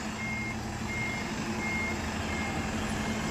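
A long bus backs into a parking spot, its reversing alarm beeping in a steady repeating tone over a continuous low engine rumble, moderately close with no talk.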